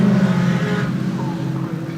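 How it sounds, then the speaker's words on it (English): A Caterham race car that has lost its exhaust passes on the Cadwell Park circuit, giving a loud, raw, low engine drone that swells and then fades over a couple of seconds. "You can tell which one's lost his exhaust, can't you? It's a completely different noise."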